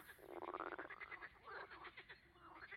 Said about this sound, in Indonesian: ketika katak banting mengorok, kamu bisa mendengar suaranya hingga 1 kilometer jauhnya